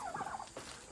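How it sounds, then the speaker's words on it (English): Turkeys gobble in the run of a backyard chicken coop, a quick rattling burst followed by a shorter second call, faint and close together with no talking. "There's our turkeys,"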